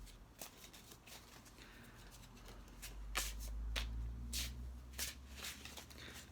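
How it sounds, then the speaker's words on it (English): Tarot cards being shuffled by hand, a run of soft riffling flutters and crisp card snaps with brief pauses, close by, over a low background rumble. "I'm looking down because I'm shuffling"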